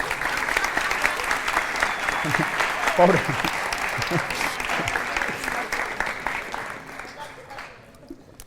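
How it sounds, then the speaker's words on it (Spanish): A church congregation at a Thursday sermon applauds in a sustained, fairly close round of clapping that fades near the end, with a brief spoken word over it. "Venga, aplauden."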